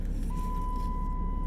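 A single steady electronic beep tone holds for over a second against loud low engine rumble and background noise.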